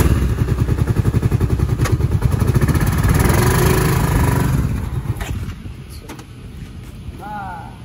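A cheap four-wheeler ATV engine idles loudly with a steady, lumpy pulse, then fades lower toward the end, with faint sounds over it.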